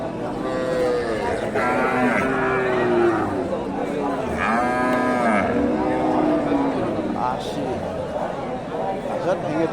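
Friesian cross cow and bull calf at the Dakumara cattle market give loud, close, drawn-out moos, several calls in a row over a steady background of market crowd chatter.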